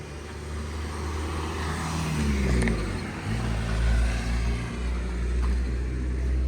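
A KamAZ truck drives along the road, its engine giving a steady loud rumble with a low drone that swells and eases slightly, heard from inside with no talk.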